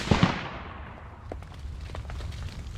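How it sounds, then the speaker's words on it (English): A .25 Creedmoor rifle fires a single shot at a distant target, a sharp report with a quick echo that fades into quiet outdoor ambience. "We're gonna shoot middle target dot, top row."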